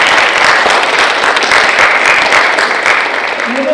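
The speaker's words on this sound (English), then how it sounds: "Let's give those students a round of applause for their accomplishments." Audience at a high school honor roll assembly claps for honored students, a dense, loud burst of applause that holds steady and begins to thin near the end.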